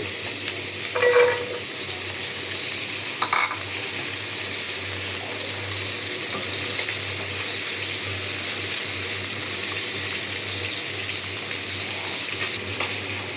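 Dried fish (shutki) cooking in a hot kadai in a home kitchen, giving a steady, close crackling sizzle throughout with a few louder spatters and no voices.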